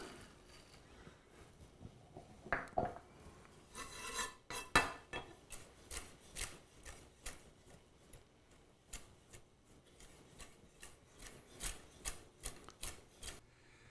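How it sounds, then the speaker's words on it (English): A knife chopping walnuts on a cutting board while making cranberry relish, heard as a run of close, sharp, irregular chops and scraping rasps with a few louder knocks, no talking. "let's go ahead and start running this knife through the walnuts"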